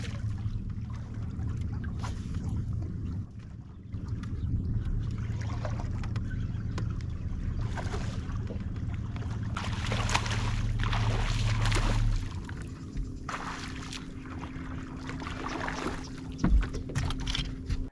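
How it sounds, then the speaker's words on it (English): An electric trolling motor on a fishing boat hunting striped bass on the California Delta, running at full power with a low steady hum and water swishing against the hull, continuous with small fluctuations. "I got the trolling motor on 100"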